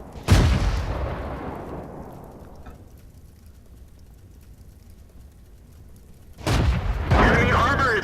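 Tank cannon fire in World of Tanks, a British Comet medium: a loud blast opens and decays over a few seconds, then another heavy impact and rumble burst in near the end.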